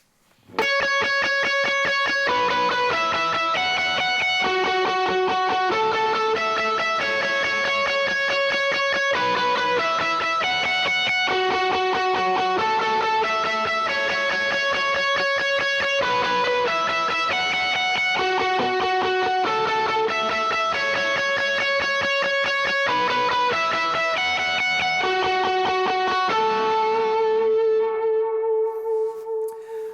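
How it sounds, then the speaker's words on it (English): Heavily overdriven electric guitar with a boost plays a steady melodic riff, loud and saturated, with chords ringing out and a held note closing the phrase. "I have all my overdrives on and a boost to give the intro a nice lift"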